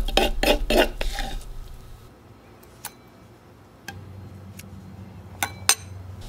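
Pounded peppers scraped from a mortar into a bowl: a few quick clinking scrapes of a utensil up front, then scattered isolated taps and knocks against crockery over a quiet room, close by and with no speech.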